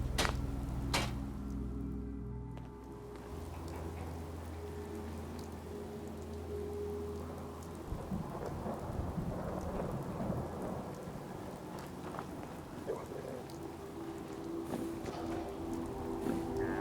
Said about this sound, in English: Hope this rain lets up soon.